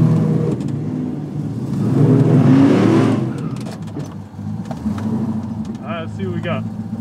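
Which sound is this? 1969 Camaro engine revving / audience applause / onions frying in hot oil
1969 Camaro engine revving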